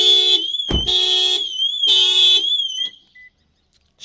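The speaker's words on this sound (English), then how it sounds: "All the usual door boot bonnet protection, level sensor, horn honk, bloody loud siren" A Toyota RAV4 alarm siren blares very loud and close in a warbling tone, broken into several on-off bursts before cutting to near silence, with a short beep after it.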